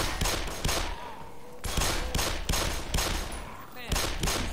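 Rapid bursts of gunfire from the video game Black Mesa ring out in loud, repeated volleys with brief gaps between them, close and dominant.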